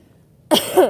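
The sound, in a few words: coughing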